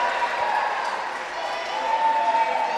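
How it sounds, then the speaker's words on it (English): A roller derby arena crowd cheers and claps, a dense, steady roar of many voices and applause filling the space, fairly loud and continuous throughout. "You should hear the cheering in the arena for our live stream people"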